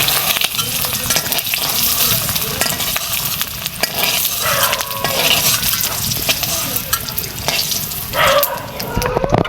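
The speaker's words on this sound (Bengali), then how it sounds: "আমি ভালো করে ভাজা নিয়েছি" Taro fries in hot oil with a loud, constant sizzle and crackle up close. Spatula stirring and scraping sounds run through it the whole time.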